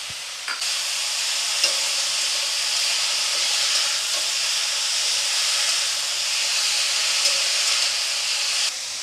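Chopped carrot, peas and capsicum frying in hot oil for bun dosa, giving a steady, fairly loud sizzle and hiss that carries unbroken for about nine seconds, with a few soft stirring knocks and no talking.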